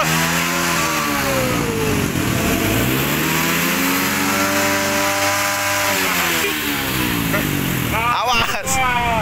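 A motorcycle engine revving and pulling away up close, its pitch climbing and falling through repeated throttle sweeps, with a brief clattering burst near the end.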